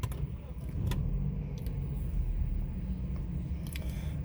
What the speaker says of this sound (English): To start the engine, just step on the clutch pedal and the brakes, and then press the start button